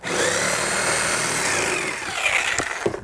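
A power tool cuts through drywall and trims back a wooden wall stud while a window is being installed, a loud continuous whining buzz that breaks into short bursts and clunks near the end.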